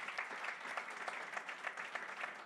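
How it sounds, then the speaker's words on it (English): Audience applause at a nonprofit gathering, a steady wash of many hands clapping together, fairly distant and moderately quiet, continuing evenly without voices on top. "So please give Tom a round of applause."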